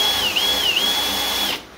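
A power drill in non-hammer mode bores into a bolt head clamped in a collet block, a steady high whine with slight dips in pitch under load before it stops abruptly.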